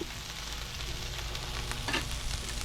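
Bacon frying on a Blackstone griddle gives off a steady, close, dense sizzle and crackle that holds evenly throughout, with no voices over it.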